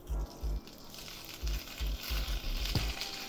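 Pork frying in a pan with steady sizzling, broken by repeated short, low thumping bursts and a brief sharp clink near the end.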